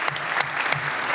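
Brief burst of conference crowd applause during a keynote opening session, dense overlapping hand claps with a few crisp louder ones near the front.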